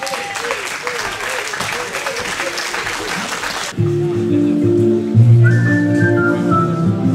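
Festival crowd at the Cévennes caravan event applauding loudly for a music duo, dense clapping with a few whistles, cut off midway as music with sustained tones takes over.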